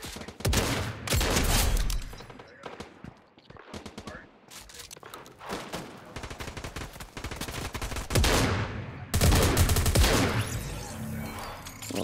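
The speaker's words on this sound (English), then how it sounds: "We're being shot at from over there." Fortnite gunfire in a Zero Build squads match, with repeated bursts of shots, some rapid and automatic, scattered across the span with brief pauses between volleys, loud and close over ambient game sound.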